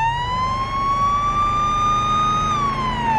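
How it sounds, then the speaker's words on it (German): Police car siren in the video game Police Simulator: Patrol Officers, one loud continuous wailing tone that sweeps slowly up and then dips, heard close over a low engine rumble with no speech. "So, wir haben hier noch Lalü drin."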